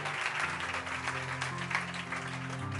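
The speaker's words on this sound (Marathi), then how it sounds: "जरा जोरदार टाळ्या प्रभूच्या गौरवासाठी" A church congregation claps loudly and steadily through a worship service, a dense, continuous patter with a sustained tonal hum beneath it.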